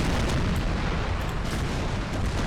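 Cannons firing grapeshot in a Total War naval battle make a continuous, dense roar of overlapping booms and blasts, loud and steady throughout with no distinct pauses and no talk.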